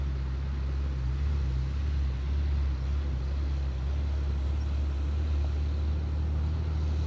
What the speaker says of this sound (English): I hear the dump truck coming up the road